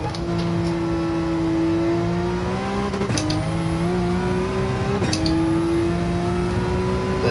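A high-range turbo race car in Gran Turismo 7 holds a sustained, loud engine drone at near-constant revs, with two quick gear shifts marked by brief dips and rising whines, heard alone.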